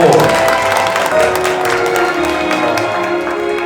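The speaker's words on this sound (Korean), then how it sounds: "네, 박수" Audience at a village community awards ceremony clapping for the top prize winner, a continuous wash of applause with a faint voice and crowd murmur underneath.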